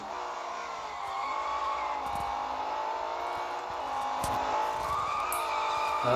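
Car drifting in the mobile racing game Real Racing 3, a steady engine drone with a long, sustained tire squeal that rises and falls in pitch as the slide continues, with no one speaking.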